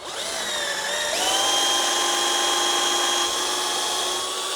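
A power drill boring a pilot hole into wood, a loud close steady whine that rises in pitch after a second and holds through the bore, alone without talk.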